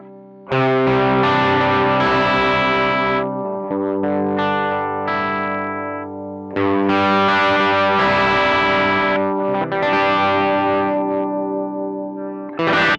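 Electric guitar played through a BOSS BD-2W Blues Driver overdrive pedal, a thick, gritty sustained tone with strong lows, in several long strummed phrases separated by short pauses, played alone.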